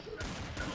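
Burst of gunfire in the online shooter game Trouble in Terrorist Town, a short rattling volley of rapid shots at steady loudness, with no speech over it.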